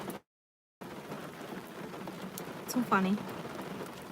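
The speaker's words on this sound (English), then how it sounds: "It's raining, it's pouring" Rain falls outside around a parked car, a steady close patter of drops over a brief dropout, while a voice speaks over it partway through.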